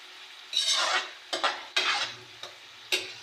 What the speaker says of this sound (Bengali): পেঁয়াজ মরিচ রসুন তেলে দিয়ে এখন বাগার দিয়ে নিতেছি